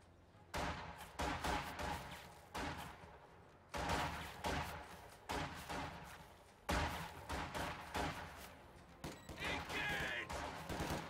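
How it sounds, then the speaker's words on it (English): MG42 machine gun fire in a WWII strategy video game, repeated bursts of rapid gunfire in several clusters with short pauses, mid-distance and steady in level. "MG42 moving up to engage these conscripts over here."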